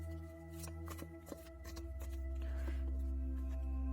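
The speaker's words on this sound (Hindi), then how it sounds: "चलिए पहले कार्ड्स निकाल लेती हूँ" Tarot cards shuffled by hand during a card reading: a soft, close riffle of papery flicks, quiet and steady over a low hum, with no talking.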